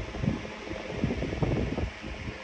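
An electric fan runs indoors with a low, steady whir and soft fluttering air noise, fairly faint and alone.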